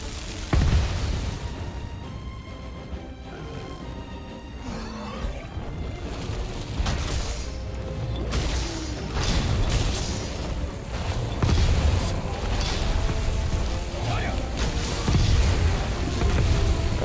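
A bombardment of explosions in a Monster Hunter game as a Vulcan Alpha Bazelgeuse is hunted with a great sword; a sustained run of low booms and bursts, one sharp hit near the start and more rumbling blasts through the rest.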